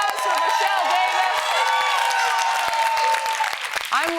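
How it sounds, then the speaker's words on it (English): Audience applause at a panel show on Black Twitter, steady clapping throughout with voices and crowd murmur layered on top, and a brief whoop near the end. "Round of applause for Michelle Davis."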